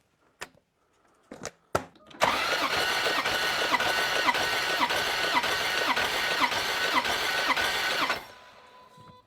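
An engine cranks steadily for about six seconds during a compression test with a rhythmic starter chug, preceded by a few sharp clicks, then stops without firing.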